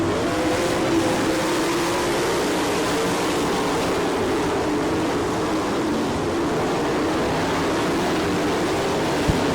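Sprint-style race cars rolling off together as the field gets under way at Attica, Ohio, a dense, steady engine roar that fills the whole stretch without letup, loud and continuous with no voices.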